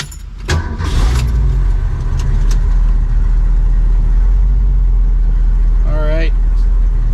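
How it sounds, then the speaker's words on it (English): A 1967 Ford Mustang Fastback GT with a 390 S-Code V8 and four-speed cranks briefly, fires and settles into a steady, deep idle; keys jangle at the start and a short voice cuts in near the end. "let's crank her up."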